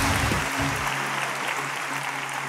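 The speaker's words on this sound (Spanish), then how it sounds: "¡Aplausos!" Audience applause at a live stand-up comedy show in a large arena, a steady dense wash of clapping filling the clip, with brief low murmurs near the start.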